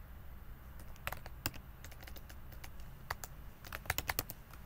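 Quick bursts of keystrokes on a computer keyboard as code is entered, close and light, in irregular clusters with short gaps and no talking.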